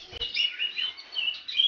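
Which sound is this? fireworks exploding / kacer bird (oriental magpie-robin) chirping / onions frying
kacer bird (oriental magpie-robin) chirping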